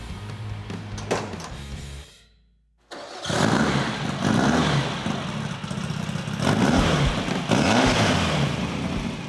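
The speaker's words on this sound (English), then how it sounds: "Fire it up, man. I gotta hear this thing." A Class 11 bubble top desert race car engine cranks, pauses briefly, then fires up and settles into a loud, rough, throbbing idle with rising blips of revving, close by.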